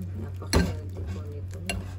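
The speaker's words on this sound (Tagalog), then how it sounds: "Then, haluin natin hanggang sa mag-combine lahat." Moringa pancake batter stirred in a bowl, a soft scrape and one sharper knock of the utensil against the side over a steady low hum, brief and close.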